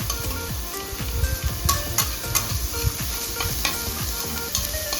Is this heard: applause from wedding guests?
no